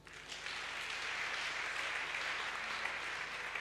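Steady applause from a church congregation, even and sustained clapping from a crowd heard at moderate distance, with no break for its length.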